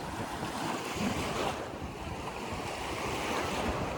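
Waves wash continuously onto the lake shore at Crystal Beach, Fort Erie, with sand, rocks and limestone blocks, mixed with gusty wind buffeting the microphone; no one speaks.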